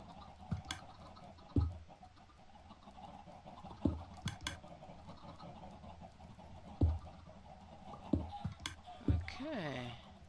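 Chickens cluck in a Minecraft video game, with short clucks and a few sharp clicks spread irregularly across the stretch over a faint background.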